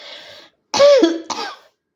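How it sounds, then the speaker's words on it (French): One short burst of coughing, two harsh close coughs after a brief breathy sound, then silence. "Pardon d'avoir toussé."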